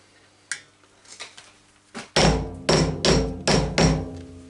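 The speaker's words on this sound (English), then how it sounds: "make sure it's tapped down onto the bottom of the vise" A hammer taps wooden stock down onto the bottom of a vise in a workshop: a few light knocks, then four loud, sharp, evenly spaced blows ringing close up.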